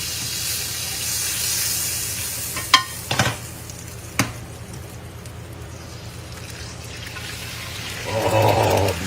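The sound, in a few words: egg frying in pork belly au jus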